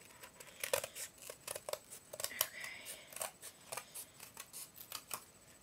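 Scissors snipping through costume ear material, a series of sharp close cuts in an uneven rhythm with faint rustling of the material between snips, quiet overall.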